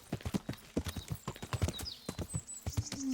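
Steady clip-clop of a horse's hooves walking in Kingdom Come: Deliverance, evenly paced and fairly close, with faint ambient game sounds and a brief whinny-like tone near the end.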